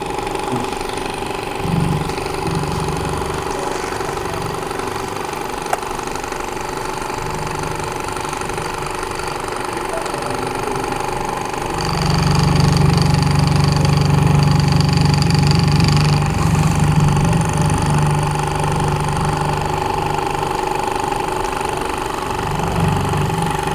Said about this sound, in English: this is how this Stirling engine works